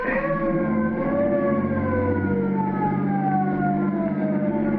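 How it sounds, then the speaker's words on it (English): A police squad car siren from an old radio crime drama wails steadily with gliding, overlapping tones under a low vehicle rumble, loud and continuous with no voices. "Listen, it's a squad car."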